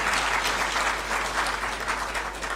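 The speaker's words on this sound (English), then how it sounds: "A round of applause," An audience at a formal gathering at Jubilee House breaks into steady, sustained clapping, fairly even in loudness from start to finish, with no talk over it.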